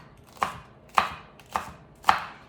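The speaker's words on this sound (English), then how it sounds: "then just chop these into thin slices." A knife chops green onions into thin slices on a cutting board, four evenly spaced sharp thuds in a steady rhythm, close and clear with no talking.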